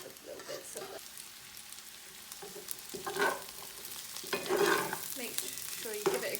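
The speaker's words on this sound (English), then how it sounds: "Make sure you give it a good stir, coat it in that oil." Onion, courgette and garlic stirred while frying in oil, steady sizzle with repeated scraping stirs of a spoon through the pan, growing busier toward the end.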